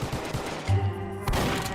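Several quick gunshots fire in a burst in the Polytoria video game, short and sharp within under two seconds.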